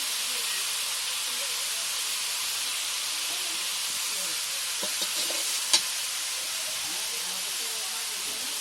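Onions and garlic paste sizzle steadily in a hot pan, a continuous bright frying hiss with a few faint clinks of stirring, close and even throughout.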